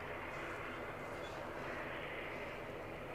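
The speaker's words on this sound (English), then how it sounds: "Ryanair next in from Brussels." A Ryanair Boeing 737-800 arriving at Edinburgh airport from Brussels gives off a faint, steady distant jet whine and rush, constant throughout.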